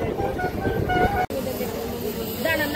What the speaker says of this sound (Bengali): 152 কিলোমিটার পথ অতিক্রম করে এই মুহূর্তে তাম্রলিপ্ত এক্সপ্রেস পৌঁছে গেছে কিন্তু মেদিনীপুর জেলার কাঁথি স্টেশনে